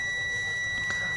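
Continuity tester buzzer sounding steadily while probing the contacts of a relay from a Hanabishi refrigerator, a continuous tone held throughout at moderate level with no talk.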